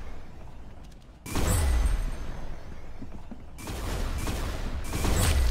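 Dense bursts of gunfire in Roblox Arsenal on PC, loud rapid volleys starting suddenly and continuing in waves with brief lulls, no talking.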